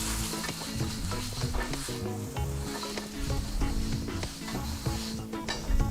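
A still-hot cast iron pot sizzles and hisses loudly as water hits it, with scraping and clattering from the wipe-down mixed through the steady crackle.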